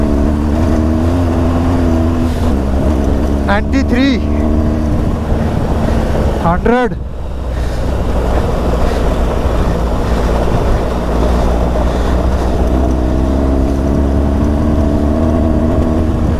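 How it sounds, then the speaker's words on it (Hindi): Motorcycle pushed hard on a rough, stony mountain road between Tattopani and Muktinath, its engine droning steadily and loudly with a pitch that rises and falls as it accelerates, accompanied by wind noise and a brief spoken number. "अभी भागाता हूँ मैं यहाँ पे लेट्स सी कितना भाग पाती मेरी बाइक"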